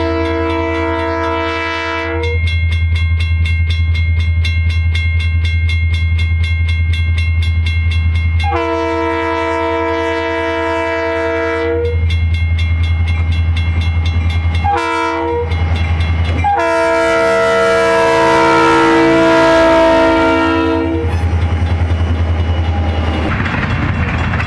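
A Keokuk Junction Railway GP20 diesel locomotive passing a road crossing, sounding several long, loud horn blasts over a heavy, steady engine rumble, with a crossing bell and rolling wheel noise joining near the end.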